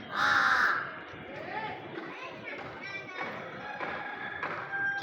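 A flock of crows caws repeatedly while being fed scattered food, loud harsh calls near and far, with soft thumps and people talking underneath.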